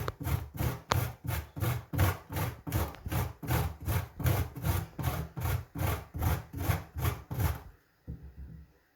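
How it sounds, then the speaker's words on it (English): Fresh ginger is rubbed over the large holes of a metal cheese grater in about twenty steady, even rasping strokes, close and fairly loud, ending in a short pause and a final scrape. "grating it on the side from the cheese grater"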